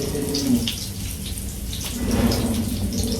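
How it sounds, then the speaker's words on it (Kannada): Fish frying in a pan, a steady close sizzle with scattered crackles and pops throughout, no voices. "ಮೀನು ಫ್ರೈ ಆಗ್ತಾ ಉಂಟು"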